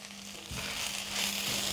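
A cabbage roll filling with fresh coriander leaves and green chili is stirred in a hot pan, giving a quiet crackling sizzle with a faint scrape of the spoon.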